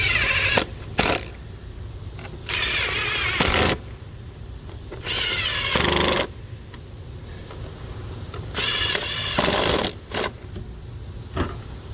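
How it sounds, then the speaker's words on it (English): A socket wrench tightens nuts on the ABS module of a 2014 Chevrolet Equinox, heard as about six short bursts of close mechanical ratcheting separated by brief pauses. "Once you're done, you take your socket and then you tighten it down."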